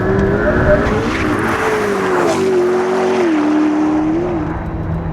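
A McLaren P1 supercar's 903-horsepower engine roars steadily, its pitch rising and dipping as it accelerates and shifts, loud and close throughout.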